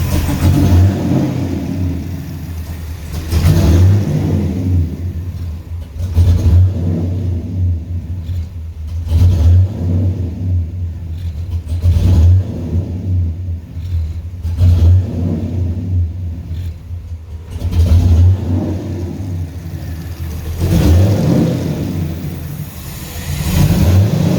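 Car engine freshly installed and awaiting a tuning session for a surging idle, revving repeatedly in a garage; loud rumbling surges rise and fall about every three seconds over a steady low drone, with no talk.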